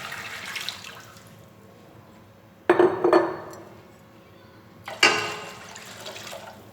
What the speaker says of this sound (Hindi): बर्तन में हम दूध डालते हैं।